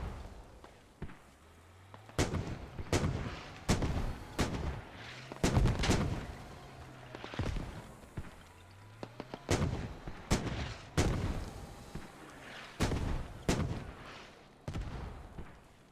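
Mortar and artillery fire in the video game Squad, a series of sharp, booming blasts at irregular intervals, some close and loud, others distant, with faint rumbling between impacts and no speech.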